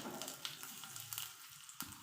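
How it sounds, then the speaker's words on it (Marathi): Mustard seeds, cumin and curry leaves crackle and sizzle in a spoonful of hot oil for a tomato chutney tempering, a close, faint hiss broken by sharp pops. "एक चमचाच तेल गरम केलेलं आहे मोहरी टाकत आहे थोडीशी अर्धा चमचा जिरीही टाकत आहे थोडासा कडीपत्ता टाकूया"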